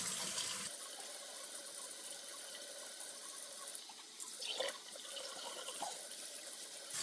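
Running water from a tap splashes steadily while a sticker is soaped up with Dawn dish soap and washed off, a continuous close hiss with brief rattles and shifts as hands work under the stream, and no talk.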